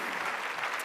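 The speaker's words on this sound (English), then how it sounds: "Thank you for clapping." An audience at a keynote talk claps in a brief, even burst of applause, heard faintly and alone.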